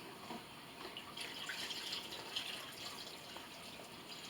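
Water trickles and splashes faintly into a bowl of homemade piñata paste mixture, a soft steady pour with light dripping, quiet and close.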